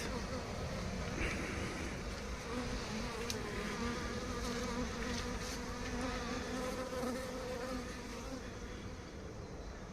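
A honeybee swarm, newly housed in a hive, buzzes steadily and densely close by, a continuous insect drone throughout with a voice faintly audible in the background.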